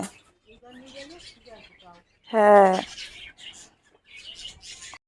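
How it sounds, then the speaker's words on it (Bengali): Small birds chirp and tweet in short, bright bursts, with one louder call standing out midway; a voice speaks briefly nearby. "আমাদের এই পাখিগুলো কিচির মিচির কিচির মিচির করতেই থাকে সারা দিন"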